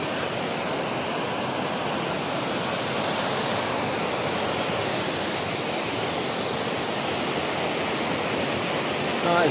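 Torver Beck, a Lake District stream running high and powerful under a footbridge, rushes continuously with a dense, steady broadband roar, loud and close, with no talking over it.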